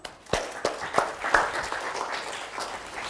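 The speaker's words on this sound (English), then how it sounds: "Give a round of applause to Farah" An audience at a business talk gives a round of applause, a few sharp separate claps at first, then a steady, moderate patter of clapping that continues evenly to the end.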